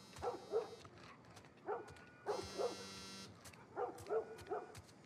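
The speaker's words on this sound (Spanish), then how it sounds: "¿Tengo un perrito yo?" A dog in the video game The Last of Us gives several bursts of short barks and yips at medium distance, with a buzzing tone sounding during one burst.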